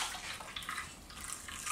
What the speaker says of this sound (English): And then pouring the water.